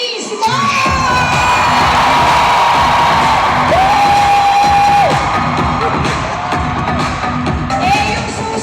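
A large crowd at a company Christmas party shouts, whoops and cheers loudly and continuously, with high shrieks and sustained yells rising over the dense roar throughout.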